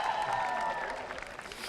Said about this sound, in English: Let's give our 7th graders one more round of applause.